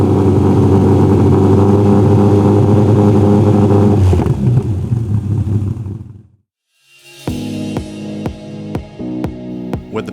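A TVR engine fitted with an ACT sports muffler is held at a steady 3,000 RPM, producing a loud, even, harmonic drone for about four seconds. It then fades into silence, and a series of sharp knocks follows.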